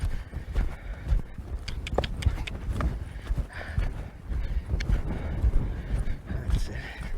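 A horse's hooves clip-clop steadily on the ground as it moves around a training pen, in an irregular walking rhythm, close and moderately loud, with some low background noise.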